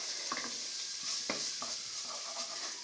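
Food sizzling in vegetable oil in a pan while being tossed and stirred, a steady close hiss broken by several scraping stirs and light clanks of utensil on the pan.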